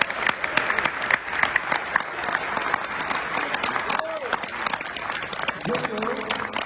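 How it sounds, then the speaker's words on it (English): A conference audience at a men's movement event applauds a veteran for his service, with continuous crowd clapping throughout and a voice speaking over it near the end. "Round of applause for his service"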